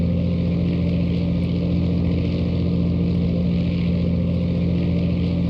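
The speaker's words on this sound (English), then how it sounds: "the consoling white noise of a wonderful Lycoming engine" A steady, droning Lycoming aircraft piston engine hum in flight, constant and loud with a low throbbing tone and no pauses.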